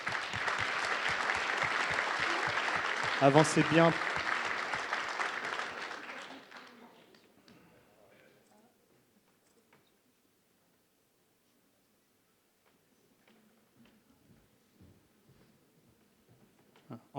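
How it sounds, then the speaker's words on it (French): Audience applause for a bronze-wings award recipient at a 2014 small-business awards ceremony, a few seconds of clapping under a brief spoken instruction, dying away into near silence with faint rustling afterward. "On peut l'applaudir."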